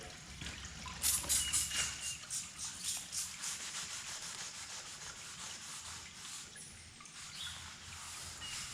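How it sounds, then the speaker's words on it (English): A Scotch-Brite pad scrubs an aluminum frame coated in aluminum wheel cleaner, a rhythmic wet rasping back and forth, close and fairly loud at first, then settling into softer strokes. "I'm going to scrub it with the Scotch-Brite"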